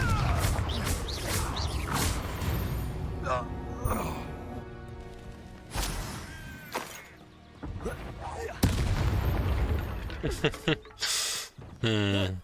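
Confringo blasting spells explode in Hogwarts Legacy. Several sharp bursts with whooshes and thuds land at irregular intervals over steady game background sound.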